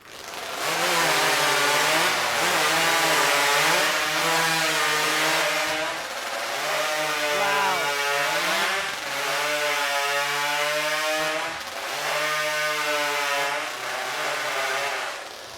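A hot saw, a modified high-powered chainsaw, cuts through timber during a professional timbersports championship heat in Switzerland. Its engine screams loud and close without a break, and the pitch dips and rises as the bar bites through the wood.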